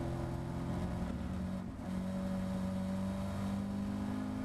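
A low-power Caterham Academy race car's engine drones at full throttle on a long uphill stretch at Donington Park, a steady in-car hum with a brief dip partway through as the note holds.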